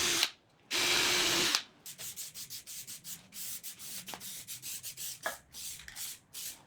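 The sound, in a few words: drilling holes in plywood seat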